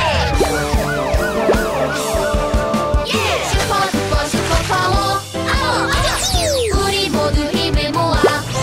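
A children's song about a fire truck, with sung vocals over busy music and a siren-like wail woven in among sweeping, bending tones. The sound is loud and continuous throughout.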